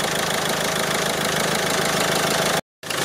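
A Citroën Xsara Picasso engine idles steadily and close by, a loud even rumble with a faint knocking pulse, briefly cut to silence near the end before resuming.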